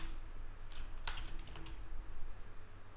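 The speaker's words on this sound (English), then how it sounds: "Ignore me being stupid on typing names." Quick bursts of typing clatter on a computer keyboard, with the key clicks coming in short irregular runs. Low background game audio hums quietly underneath.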